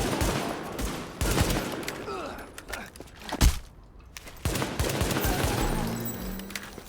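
Gunfire in the video game The Division comes in several rapid bursts with short pauses between them, sitting fairly close within the game's ambient sound.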